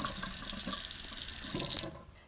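Tap water runs steadily into a sink while fine bulgur wheat is rinsed, a close, bright rushing stream with faint handling bumps, cutting off abruptly near the end.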